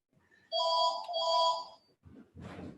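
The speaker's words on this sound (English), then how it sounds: "that's the phone. It'll stop in a minute, I hope." A telephone rings in two electronic trilling bursts close by, followed by a few softer rustling noises.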